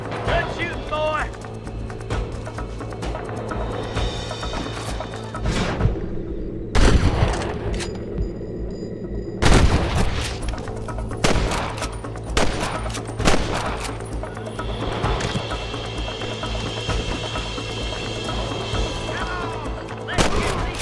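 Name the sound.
gunshots in the video game Red Dead Redemption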